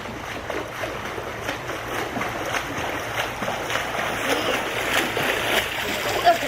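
A swimmer splashing and pulling himself through the water, with repeated watery splashes and churning at an even rhythm, fairly close and continuous, with some voices in the background.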